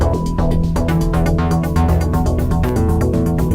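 A loud, full video game music mix with driving rhythmic hits and layered synth and bass tones, playing steadily with no voices.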